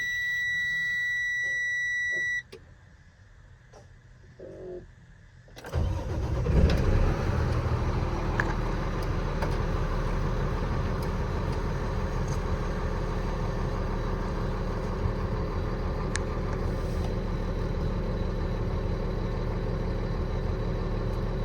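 A high beeping alarm sounds, then the 8.3 Cummins engine of a 2012 Freightliner M2 service truck with crane starts up and settles into a loud, steady rumble as the truck drives.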